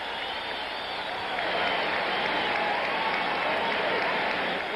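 A boxing crowd at Muhammad Ali versus Jerry Quarry II cheers and applauds for Quarry, a dense, loud roar of clapping and voices that holds steady and swells slightly as it continues.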